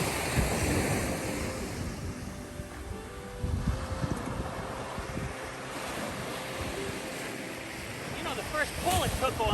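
Ocean surf rolls steadily onto a Delaware beach during surf fishing, with broad rushing wash and wind buffeting the microphone, and faint voices now and then.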